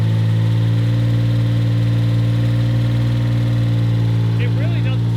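A Mitsubishi 3000GT VR4, a long-abandoned car bought cheap, idles steadily with a loud, even low drone and a faint light tick riding on top, close and continuous throughout.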